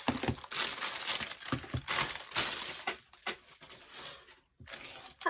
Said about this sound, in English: Just get them out the packaging.